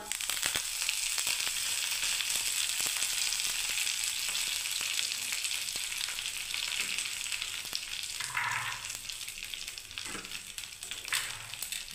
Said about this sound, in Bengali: এবারে দেখুন বন্ধুরা কারি পাতা দিয়ে দিলাম।